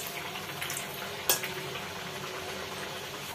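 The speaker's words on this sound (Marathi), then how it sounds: "हे पुरी तेलमध्ये घालून घेऊया" Potato puri frying in hot oil in a kadhai gives a steady, fizzing sizzle throughout, with one sharp splash or crackle partway through.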